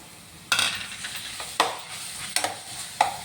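Sliced tomato is stirred into shallots and green chilies in a frying pan, with a soft steady sizzle broken by four sharp scraping stirs spaced about a second apart, close and fairly quiet.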